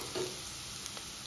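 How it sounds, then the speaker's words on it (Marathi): Cashew curry with fresh grated coconut sautés gently on a low gas flame in Goan home cooking, giving a faint, steady sizzle with a soft stir near the start. "छान खमंग असं अगदी बारीक गॅसवरती परतून घ्यायचं."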